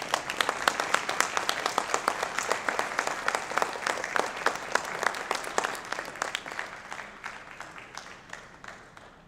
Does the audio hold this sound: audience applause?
yes